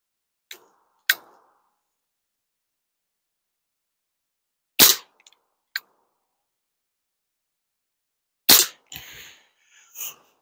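Sharp, loud single shots from a Webley Mk 6 revolver ring out at an outdoor range, spaced irregularly over several seconds with silence between reports.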